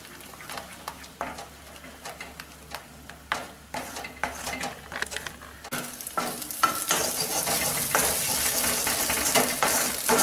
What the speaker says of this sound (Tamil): ஆயில் கொஞ்சமாக ஊற்றிருக்கிறதுனால தூரில் பிடிச்சிடாம மட்டும் கிண்டிக்கங்க.